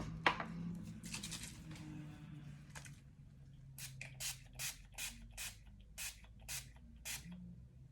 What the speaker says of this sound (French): je vais terminer par mettre un spray fixant de chez Sephora